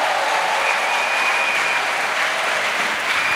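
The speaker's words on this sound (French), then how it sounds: "Let us clap for Jesus." A congregation claps together in a continuous burst of applause, loud and sustained from start to finish with no break.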